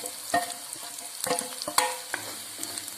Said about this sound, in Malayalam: ഗരം മസാലപ്പൊടി 1/2 ടീസ്പൂൺ, മല്ലിപ്പൊടി 1 ടീസ്പൂൺ, കുറച്ച് കാശ്മീരി ചില്ലി ഇവയിട്ട് വഴറ്റുവാൻ വേണ്ടിയാണ്.